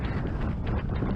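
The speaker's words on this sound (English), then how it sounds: "just windy, really windy" Strong wind roaring across a hill summit on a winter hillwalk in the Scottish hills, a loud, steady buffeting rush with gusty swells and no voices.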